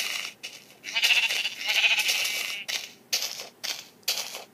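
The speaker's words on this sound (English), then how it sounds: "I'm gonna kill this naughty sheep real quick." Sheep bleat in the Minecraft Pocket Edition video game, several short, fairly faint bleats in an uneven run with brief gaps, and no talk.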